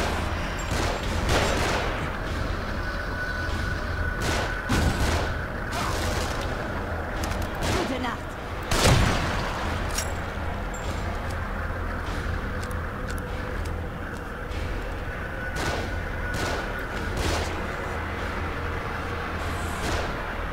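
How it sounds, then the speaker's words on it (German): Gunfire rains down from above in The Evil Within on nightmare difficulty, sharp shots cracking repeatedly across twenty seconds, one louder blast near the middle, over a steady dense background of game ambience. "Geh in Deckung, sie schießen von oben."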